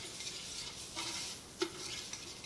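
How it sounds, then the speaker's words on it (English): A spoon stirs tomato paste vigorously into cooked turkey in a pan, giving a steady scraping swish over a low, continuous sizzle, close and moderately quiet, with one brief sharp clink near the middle. "you can see how I'm vigorously stirring it to get that incorporated"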